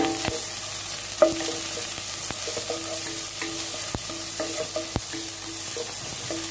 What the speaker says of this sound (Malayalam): ഫുൾ ഫ്ലെയിമിൽ തന്നെ നമുക്കതിട്ട് ഫ്രൈ ചെയ്തെടുക്കേണ്ടതുണ്ട്